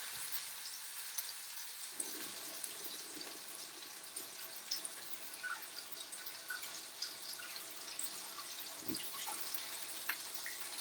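Tap water runs steadily into a kitchen sink as hands are rinsed during chicken saltimbocca preparation, a soft constant splash with a few scattered drips and knocks, no talking.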